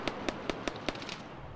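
A marker round is fired near a compound in a military video game. Five evenly spaced, sharp, fairly quiet reports come in quick succession, followed by a few fainter pops.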